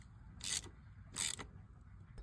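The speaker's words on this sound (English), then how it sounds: "you want to go ahead and tighten up the little roller for the shift drum." Two short metallic ratcheting bursts as a wrench tightens the small shift drum roller on a Yamaha YZ426 big-bore engine, quiet and close, separated by a brief pause.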